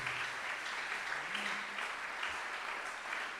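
A church congregation at a Sunday celebration service applauds and acclaims Jesus, steady dense clapping that fills the room throughout at an even level, with no individual voice standing out.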